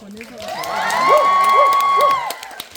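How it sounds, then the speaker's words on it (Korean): An audience at a Korean film stage greeting cheers and shouts, swelling to a loud peak mid-clip and fading at the end, with a voice carrying over the crowd noise. "자, 큰 박수!"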